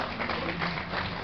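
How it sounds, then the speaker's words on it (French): An audience at a French ULM microlight aviation conference applauds its speakers, a steady, dense crowd clapping that stays even and fairly loud for the whole stretch, with no distinct voices on top. "Je crois qu'on peut les applaudir pour tout ce qu'ils ont fait."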